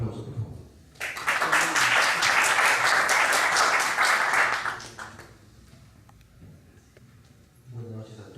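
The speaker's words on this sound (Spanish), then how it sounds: "Un aplauso, por favor." An audience at a National Assembly of Rectors event breaks into loud, sustained applause for about four seconds, then it fades; a voice speaks before and after.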